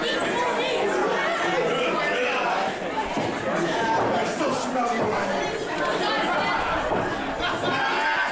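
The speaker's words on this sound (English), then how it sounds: "Got a full crowd here at Scoops tonight," A full crowd at a wrestling show's season finale fills the room with dense, steady chatter and scattered laughter, a continuous roar of many voices at close range.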